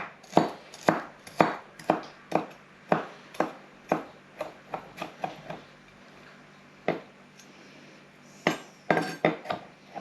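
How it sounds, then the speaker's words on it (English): A knife chops through a lemon on a board, a series of crisp, close, evenly spaced knocks that speed up into quick clusters, with short pauses between runs. "This is the lemon that I used the other day, so I'm just going to chop through this a little bit."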